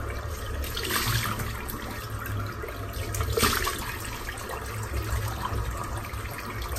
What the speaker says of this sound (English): I'm just going to rinse off now with some warm water first.